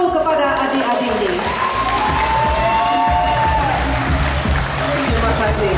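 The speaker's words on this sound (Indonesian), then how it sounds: "berikan tepukan yang paling gemuruh kepada adik-adik ini" A crowd at the Sugandoi Dazanak 2013 winners announcement bursts into loud, sustained applause and cheering, dense clapping with whoops and shouting voices throughout.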